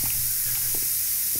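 Plaster sprayed onto a wall in the video game Builder Simulator makes a continuous loud airy hiss, steady throughout with faint low thumps underneath.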